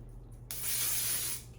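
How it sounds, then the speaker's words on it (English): Wonder Lace adhesive spray sprayed onto hair, one close, loud continuous hiss of about a second after brief quiet, with no talk. "I like to spray it with some Wonder Lace."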